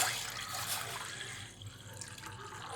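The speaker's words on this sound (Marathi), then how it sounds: "पपईचे तुकडे शिजण्यासाठी मी हे तांब्यावर पाणी ओतून घेते" Water pours steadily into a pot for cooking papaya pieces, a continuous splashing rush that shifts slightly in tone as it fills.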